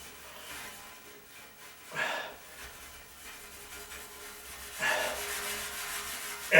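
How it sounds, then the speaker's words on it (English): Cloth is rubbed across a glass shower door to clear hard water stains, soft close scrubbing swishes that rise in two stronger strokes over a quiet background, with no one talking. "you're just going to want to put some elbow grease on there and wipe it around"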